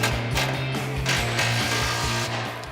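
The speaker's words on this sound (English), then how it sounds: "17mm socket to tighten it up." A 17mm socket ratchet tightening an exhaust hanger bolt on a 2004-2008 Ford F150 5.4L, a close, loud, rapid ratcheting buzz that runs steadily with brief pauses.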